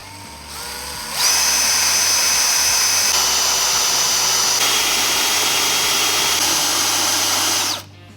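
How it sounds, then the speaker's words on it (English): A power drill with a 3/16-inch bit whines steadily at high speed for several seconds, loud and close, as it bores a pilot hole through a 2015 Chevrolet Corvette's metal bumper support beam, then spins down and stops. "We're gonna start with a 3/16 drill bit to get our pilot hole"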